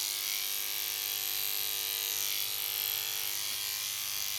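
Electric clippers cutting a clean, dry dog's fur, a steady high-pitched buzzing hum held close and constant without pause or voices.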